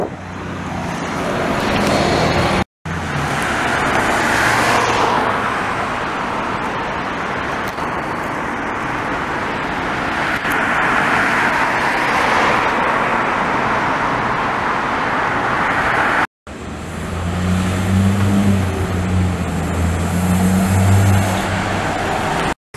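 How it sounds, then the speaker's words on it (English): Older Montreal STM city buses moving through East End rush hour traffic, a continuous loud engine and road rumble with vehicles passing close by, briefly cut twice, no talking. "they got all the most of the older buses operating out here in the East End at rush hour"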